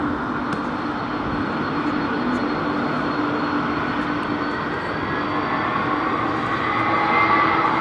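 An airliner takes off at London Heathrow Airport with a steady, loud broadband jet roar that holds evenly and swells slightly toward the end, with no voices over it.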